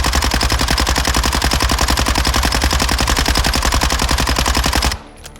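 Minibak submachine gun in Call of Duty Modern Warfare 2 fires one long, loud, rapid automatic burst for about five seconds, then cuts off abruptly into quiet.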